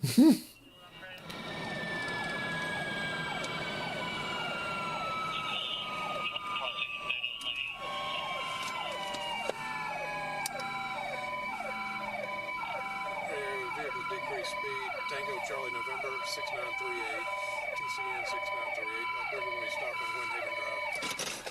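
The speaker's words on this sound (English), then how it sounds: "That's the most annoying siren of all time." A police siren wails continuously in a fast, repeating electronic yelp pattern, loud and close, holding steady for a long stretch with a faint voice beneath.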